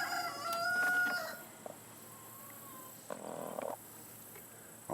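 A broody hen gives a few faint, low clucks and a brief trill in a quiet coop, with sparse sounds spread over a few seconds.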